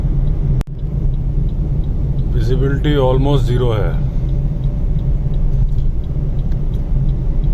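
A car driving slowly at about 40 km/h on a fog-bound mountain road, a steady low engine and road rumble running throughout, with someone talking over it partway through and a sharp thump near the start.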